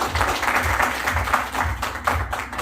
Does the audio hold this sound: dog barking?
no